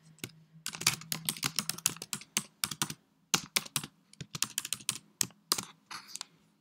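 Fast, close typing on a computer keyboard while a quiz question and answers are entered, with dense bursts of key clicks broken by short pauses and no talking.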